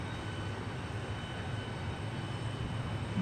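A Southwest Airlines airliner in special Nevada livery roars past at Dallas Love Field, a steady broadband jet rumble holding level throughout.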